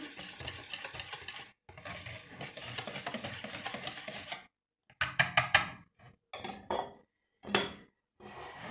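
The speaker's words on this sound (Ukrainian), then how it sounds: "яєчно молочну сюди все. Перемішуємо." A spoon or spatula stirring an egg and milk mixture in a bowl, with bursts of scraping and clinking against the sides separated by short pauses, close up and with no talk.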